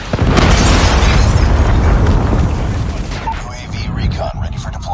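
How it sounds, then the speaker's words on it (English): A predator missile blast in a shooter video game starts with a loud, roaring explosion that rumbles on and slowly fades, with sharp game effects and a voice briefly audible underneath. "Hostile predator missile inbound."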